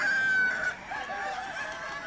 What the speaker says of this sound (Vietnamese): Khá là nhiều, toàn là gà trống các bạn ạ.